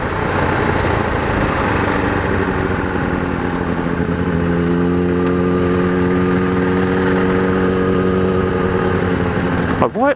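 A Husqvarna Vitpilen 701 engine drones loudly and continuously while ridden, its tone climbing and holding steady in pitch with rising harmonics, under wind noise, before a brief drop near the end.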